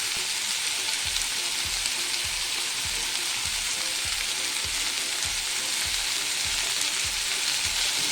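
Pepper chicken fries on low flame in a pan with a dense, constant crackling sizzle, under a steady rhythm of soft scraping strokes as it is stirred.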